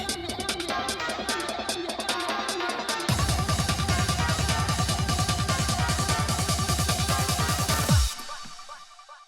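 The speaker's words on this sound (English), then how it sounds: "it's just reducing the energy on this final part of the build-up" A dance track's build-up plays with a filter thinning out its energy, then the full sound slams back in with a heavy, rapid pulsing low end for several seconds before cutting off abruptly and fading into near silence.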